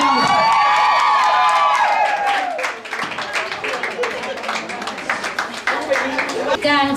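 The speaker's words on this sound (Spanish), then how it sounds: "Un aplauso." Audience applause and cheering at a two-day balloon decorating course in the Dominican Republic, swelling after a voice speaks and continuing as a dense, lively crowd roar with claps for several seconds.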